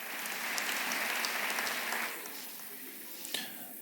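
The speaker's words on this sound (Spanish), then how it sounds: "Sí, aplaude." Audience applause at a church conference, a dense steady clapping that fills the room for about two seconds, then drops to a softer tail of scattered claps.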